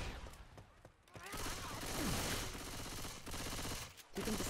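Rapid bursts of video game gunfire from a tournament match, crackling and dense like a fusillade with short pauses, played loud and continuous under a commentator's talk.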